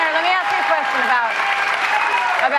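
Studio audience applause and cheers for Bernie Sanders on a Fox News set, a loud, dense, steady roar of clapping, with voices talking over it until it cuts off abruptly.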